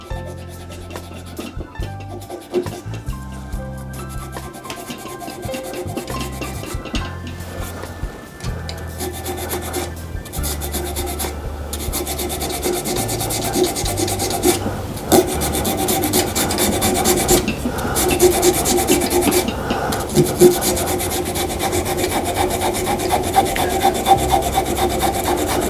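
Sanding a chameleon burl shaving brush handle, a steady continuous rasping and rubbing that grows slightly louder over time, close and alone without any talk.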